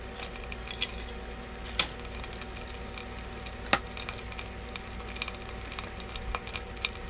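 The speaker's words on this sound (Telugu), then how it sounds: "దానికోసం ముందుగా పాన్ తీసుకొని ఆయిల్ వేసి దానిలో వెల్లుల్లి రెబ్బలు వేస్తున్నాను" Garlic cloves and cumin seeds frying in oil in a pan for an Indian ridge gourd chutney, a steady gentle sizzle with a stirring utensil scraping and clinking against the pan at intervals.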